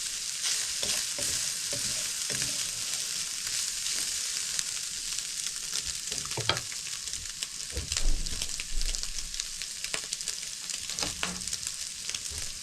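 Chili mince and seasoned vegetables fry in a pan with a steady, dense sizzle, broken now and then by stirring scrapes. The sound is close and fairly loud, and nobody talks.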